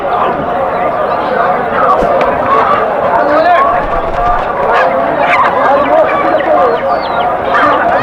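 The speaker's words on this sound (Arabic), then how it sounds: "هنا سعر الزوج 25. دجاج عرب نظيفات وخشنات." Arab breed chickens at a busy animal market cluck and squawk in scattered bursts, some honking calls rising over a constant murmur of crowd talk nearby.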